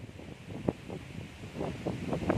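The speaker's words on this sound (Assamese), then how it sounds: "শব্দটো শুনক কি বতাহ কি পানীৰ চাউণ্ড" Steady rushing water from Phe Phe waterfall and gusting wind blend into a continuous roar, with rumbling bursts of wind buffeting the microphone.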